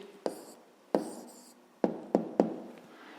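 Pen writing down an answer on paper, five sharp taps with faint scratching strokes between them, close and quiet.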